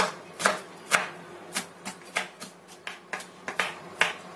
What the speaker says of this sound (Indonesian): ini aku pakai 3 siung bawang putih. Ini kita geprek dan cincang kasar aja.